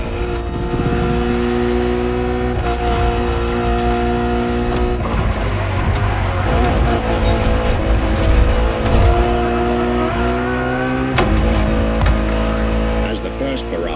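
A Ferrari Enzo supercar's engine in The Crew Motorfest drones loudly and continuously, its pitch stepping up through gear changes like a race car accelerating hard, with brief tyre and gearshift noises along the way.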